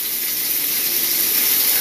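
Steak cooking in a hot pan sizzles with a steady, dense hiss, close and fairly loud, continuous throughout with no talking.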